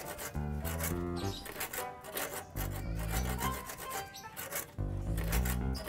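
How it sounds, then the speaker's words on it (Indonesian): Hand saw cutting through wood, with rough, rasping back-and-forth strokes in short repeated bursts, loud and close, with brief pauses between runs of strokes. "Gergaji aja miring gitu."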